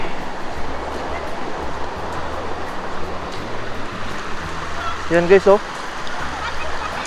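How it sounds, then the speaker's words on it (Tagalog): A provincial river flows with a steady broadband rush of water, close and continuous, while people talk briefly over it. "Ganda ng ilog guys."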